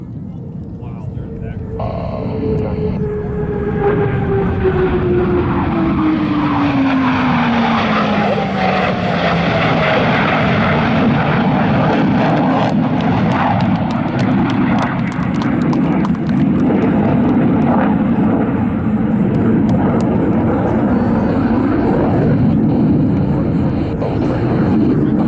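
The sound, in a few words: Blue Angels aircraft flying over Pensacola NAS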